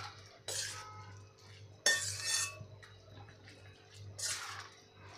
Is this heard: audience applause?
no